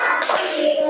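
Children in a classroom lesson clap together in a quick patterned sequence, a dense close burst of hand claps lasting under a second with a faint voice mixed in.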